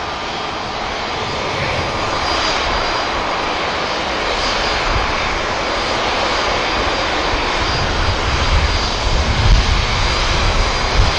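Airliner jet engines roar steadily at Manchester Airport as aircraft line up, a loud continuous broadband rush that swells slightly toward the end, with no voices.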